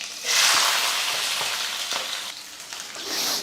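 Loud, steady sizzling of fenugreek seeds, curry leaves and onion frying in hot oil for sambar, with crackles and pops throughout and no voices.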